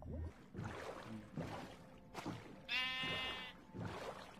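A Minecraft sheep bleats once, a short wavering cry near the middle, set among bursts of game sounds and other noise before and after it.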